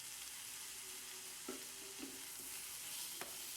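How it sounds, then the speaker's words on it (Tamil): Onion, tomato and green chillies being sautéed and stirred in a pan for a chicken onion dosa, a quiet steady sizzle with a few soft spatula scrapes and clinks, no talk. "தக்காளி மிளகாய் ஆட் பண்ணதுக்கப்புறம் நல்லா வதக்கி விடுங்க."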